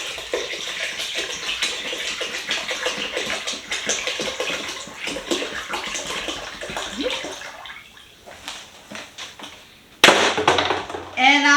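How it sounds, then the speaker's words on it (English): Water pours into a batch of jackfruit mead in a steady, sloshing stream close by, with a louder splashing burst near the end. "I am going to add the rest of my water."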